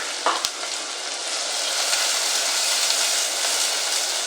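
Onions fry in oil in a sufuria, a loud, steady crackling sizzle filling the whole stretch after a brief clatter at the start, with no talking.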